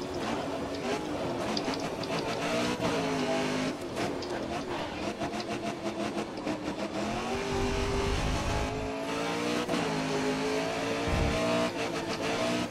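Race car engines roar continuously in a GRID Autosport multiplayer race at the Algarve circuit, with loud, layered revving and shifting pitch from several cars throughout and no voices.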